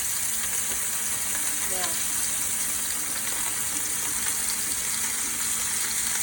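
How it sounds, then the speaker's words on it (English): Pot roast meat sizzling in a hot pan on high heat, a steady continuous frying hiss with faint crackles throughout, moderately loud and close, with a brief spoken word at the start. "you want to hear that loud sizzler noise"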